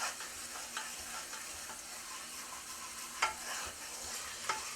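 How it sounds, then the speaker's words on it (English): Flour being stirred into melted butter in a pan gives a quiet, low sizzle broken by a few soft scraping clicks from the spoon. "Incorporate that flour into the butter for just a minute."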